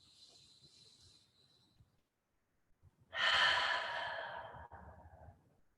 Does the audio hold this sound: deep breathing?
yes